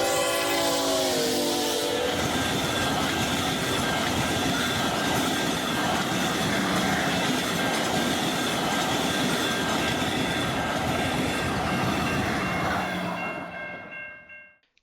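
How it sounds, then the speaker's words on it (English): A train delivering a double set of new railcars in Wyoming rolls past close by, opening with a loud horn blast, then a continuous roar with wheel squeal and rumble that cuts off abruptly at the end. "So this train here was pretty decent actually, since it was the first ever time they used a double set."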